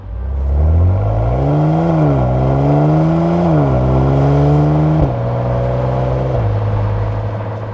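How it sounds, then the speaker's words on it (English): A Jaguar F-Pace engine revs loudly on twisty back roads, pitch climbing through several rising pulls with brief drops at each upshift, then settling into a steady cruising drone, with no talk. "So this is a Jaguar, which means it sounds good"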